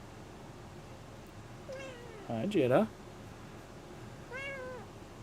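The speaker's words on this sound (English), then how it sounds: "I haven't seen my kitties in a week" House cats meow close by: one drawn-out mew, then a quick run of plaintive cries, and after a pause a final longer meow, with a person speaking softly in between.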